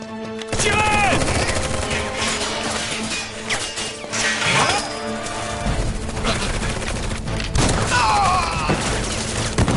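Soldiers open fire in Final Fantasy VII Remake, a loud, sustained fusillade of rapid gunshots and bursts with crashing impacts over dense game music, shouted voices mixed in.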